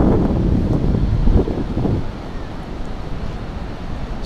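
Sea waves and wind at Nha Trang beach in Vietnam in February: a loud, steady roar of surf and gusting wind buffeting the microphone, heaviest in the first couple of seconds, then a continuous lower rush.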